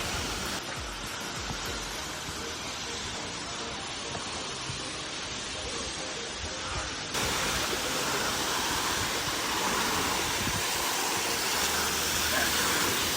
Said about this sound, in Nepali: झरना त त्यति ठुलो छैन तर पनि पानी कस्तो छ क्या